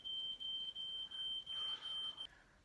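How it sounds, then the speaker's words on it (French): A smoke alarm sounds a rapid, regular run of about six shrill, piercing electronic beeps indoors, each a short steady tone with brief gaps, the last one cut short. "L'alarme incendie arrête pas de sonner."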